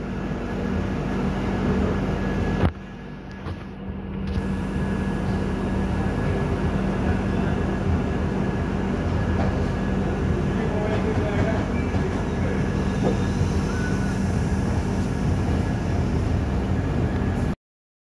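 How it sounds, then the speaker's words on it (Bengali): A steady, loud rumble of the Gitanjali Express departing Raigarh station fills the whole stretch, with a brief dip early on and a constant mechanical drone throughout. "রায়গড় থেকে আমাদের ট্রেন বেরোচ্ছে এখন।"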